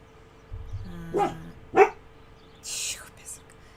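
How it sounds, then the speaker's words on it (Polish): A pet dog gives two or three short barks, close by and faint, with soft speech around them and a hissy burst near the end. "Cicho, piesek."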